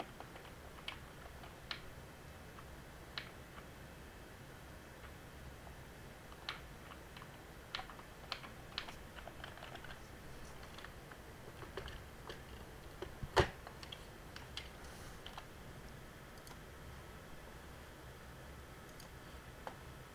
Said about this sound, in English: I just started randomly pressing keys on the keyboard